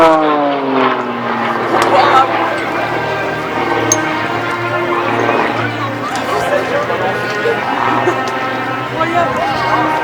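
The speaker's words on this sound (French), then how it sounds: "l'avion que l'équipe voltige de l'armée de l'air utilise à présent depuis 2008, c'est l'Extra 330, avion de conception allemand" An Extra 330 aerobatic plane flies at the Verdun air show, its engine drone rising and falling steadily under continuous French commentary over loudspeakers.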